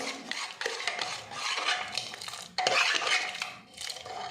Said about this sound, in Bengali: দিয়ে দিচ্ছি তড়কা মশলা মিক্সড করে